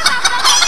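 A concert audience clucks and squawks like hens and chickens, a loud crowd of mixed voices imitating the birds in a short burst.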